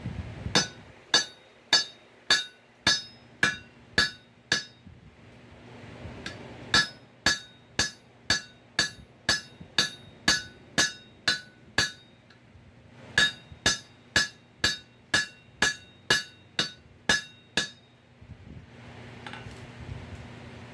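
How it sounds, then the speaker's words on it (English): Sharp, ringing blows from the flat of a hammer on a rivet in scrolling tong blanks, in three quick bursts of about eight strikes each, with brief pauses between runs and a low hum beneath. "let's set that rivet down. You start with the flat of the hammer."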